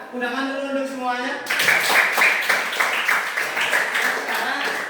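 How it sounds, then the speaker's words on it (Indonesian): After a brief spoken phrase, an audience in a teacher-training classroom session claps together in a brisk, steady round of hand clapping that carries on to the end. "Tepuk tangan dulu untuk semuanya."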